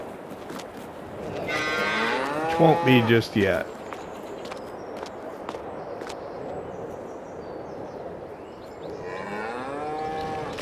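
Cattle moo loudly in a Farming Simulator 22 farmyard, a burst of overlapping calls followed by another long moo later, with footsteps and someone talking over the livestock.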